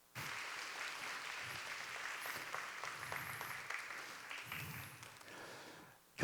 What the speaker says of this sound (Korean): 오늘 나오실 때 우리 환영의 박수로 맞이하겠습니다.